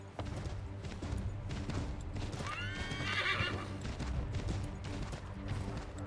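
A horse in the Assassin's Creed 3 video game whinnies sharply partway through while its hooves clip-clop steadily underneath, set against a low rumbling game backdrop with no talk.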